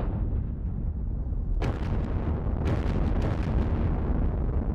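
A 75 mm artillery piece firing in a World War II strategy wargame of an invasion of Britain: a broad, loud booming report rises from low rumble, followed by several further sharp blasts with no talk.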